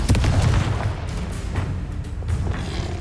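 Confringo fire-blast spell explosions in the video game Hogwarts Legacy, with loud booming blasts in quick succession under a dense low rumble, heavy at the start and continuing throughout.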